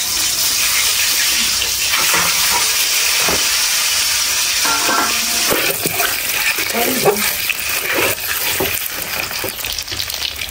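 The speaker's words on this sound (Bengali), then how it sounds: "এই জায়গায় ডিম ভাজা হচ্ছে" Eggs fry in a home kitchen pan with a steady, close sizzle and occasional stirring scrapes running throughout, loud and continuous with brief clatters.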